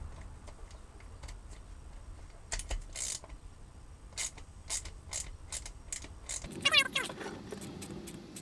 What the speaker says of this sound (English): I'm going to take my hand crank tool, and I'm going to crank every single one.